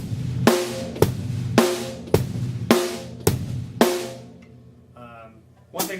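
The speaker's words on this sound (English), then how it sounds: "One way would be just do less hats, so it would sound like this." A simplified rock beat on a drum kit with fewer hi-hat strokes, kick and snare alternating steadily and close for several bars before a brief pause, a faint voice, and one last hit.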